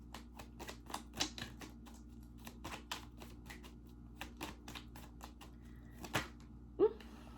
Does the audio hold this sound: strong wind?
no